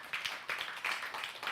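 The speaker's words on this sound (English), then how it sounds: "Let's give a big applause to Markku Luodo again." A small audience at a regional heritage seminar gives a brief round of applause, scattered hand claps forming loose bursts for a little over a second, fairly faint and distant in the room with no talk over it.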